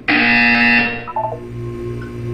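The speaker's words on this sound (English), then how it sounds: "You will hear a buzzer." A loud electronic buzzer blares in Portal 2, a harsh tonal burst lasting under a second, followed by fainter tones and a low hum.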